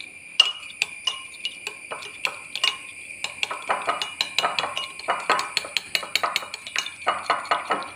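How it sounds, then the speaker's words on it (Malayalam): A spoon beats eggs in a bowl, giving rapid, irregular metallic clinks and taps close by, with no talking over them. "മുട്ട ഒന്ന് സ്പൂൺ കൊണ്ട് വെച്ച് ഒന്ന് ഉടച്ചെടുക്കാം."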